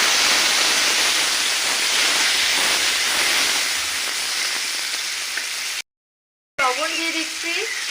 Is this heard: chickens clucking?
no